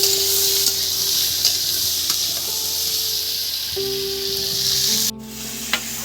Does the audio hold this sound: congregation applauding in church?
no